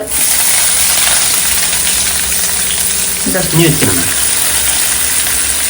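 Onions fry in hot oil with a loud, constant bright sizzle and hiss throughout, while a few short voiced sounds break in near the end.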